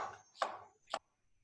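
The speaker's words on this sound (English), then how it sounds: "And then pineapple, just slice." A knife slices through pineapple in a resort kitchen at The Datai Langkawi, giving two distinct, close cutting thuds about half a second apart, with quiet between them.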